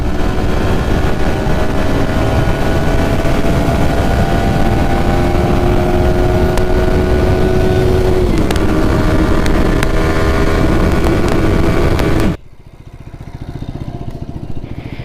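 A loud, steady engine drone with shifting pitch runs continuously from a Bajaj Pulsar NS 200 motorcycle cruising fast, then cuts away abruptly to quieter background noise near the end.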